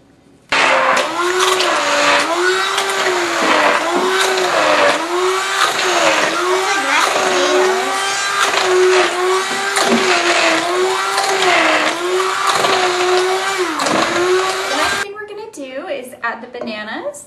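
Electric blender whirring steadily as it mixes banana bread batter during a family baking session, loud and continuous with a wavering motor pitch, then cutting off near the end as voices resume.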